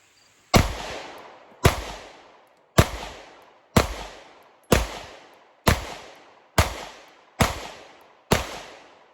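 Nine loud, close pistol shots from a Springfield Hellcat Pro, fired one at a time at an even pace of roughly one per second, each sharp crack followed by a brief decaying echo, with no talking.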